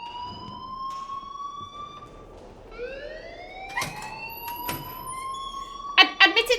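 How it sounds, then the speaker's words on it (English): A school fire alarm in the Life is Strange video game wails on, a steady rising-and-falling electronic tone that fills the clip, with a few sharp knocks near the end. "please turn off that alarm since that's your job"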